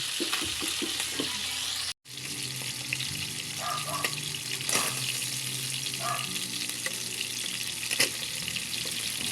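Food sizzles and crackles steadily in a hot pan, with a few clinks and splashes of water; no talking.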